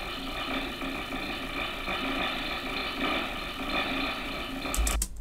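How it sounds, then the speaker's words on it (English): Unprocessed machine texture sample, a continuous mechanical ratcheting, gear-like clatter with steady dense grinding noise, alone and fairly quiet, ending in a brief louder thump. "I think it was like a machine texture from Splice."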